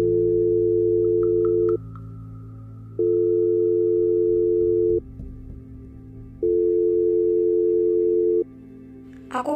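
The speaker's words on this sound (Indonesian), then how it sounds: "Ada telepon sama chat dari Sofia." Telephone call tone in the Sakura School Simulator game: three long, steady electronic beeps repeat with pauses, loud and alone, with faint game background.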